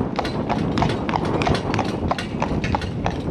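Cob horse pulling a carriage, its hooves clip-clopping in a steady, even trot, close and loud against a constant rumble of wheels, with no talk.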